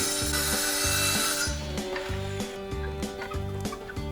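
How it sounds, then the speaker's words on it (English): A circa-2003 Black & Decker Woodhawk saw cuts wood for a decorative chicken door, making a close, rhythmic series of rasping strokes that repeat at a steady pace, with no voices. "First we'll bust out the old Black & Decker Woodhawk circa 2003."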